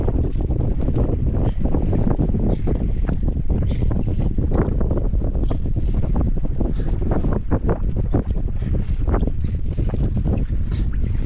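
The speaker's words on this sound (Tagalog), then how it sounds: "lakas ang hangin" Strong wind buffeting the microphone in constant heavy gusts, a loud roaring rumble throughout with no clear voices.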